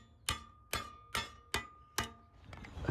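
A hammer taps down a cut steel lip during bulkhead strut fabrication on a Mercedes R107, with five evenly spaced ringing metallic strikes followed by quieter shuffling, close and alone.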